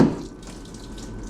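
Water runs from a tap while mushroom blocks soak, a steady broadband flow that is loudest at the start, then settles into a continuous moderate rush.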